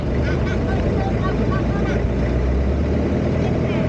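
An outboard-style boat engine runs steadily on Tonlé Sap lake in Cambodia, a continuous loud drone with water noise throughout, while people talk faintly over it.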